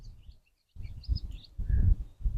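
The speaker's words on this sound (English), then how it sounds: "I can hear all the birds talking." Birds chirp in a front garden on an early June morning, faint scattered tweets above heavier close rustling and handling noise, with a brief quiet gap.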